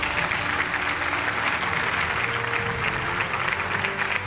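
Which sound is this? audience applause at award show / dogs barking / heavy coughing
audience applause at award show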